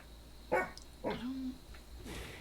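A dog gives two short barks close by, separated by a brief pause, with a faint whimpering tone trailing the second bark over a quiet background.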